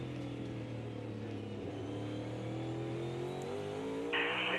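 A NASCAR Cup stock car in the Clash at Bowman Gray accelerates off a corner, its engine droning steadily with rising pitch and close, continuous loud roar throughout.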